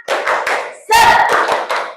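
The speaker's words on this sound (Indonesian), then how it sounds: "Kita tepuk semangat dulu yuk." Classroom of students doing a rhythmic spirit clap, hands striking together in short bursts of patterned claps with brief pauses, close and loud, with some voices mixed in.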